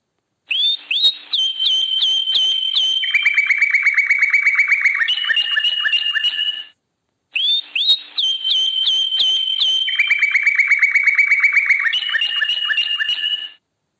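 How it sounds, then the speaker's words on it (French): Nightingale song, clear and close: bright whistled phrases with rapid trills and chirps, the same phrase heard twice with a short break between. "Rossignol,"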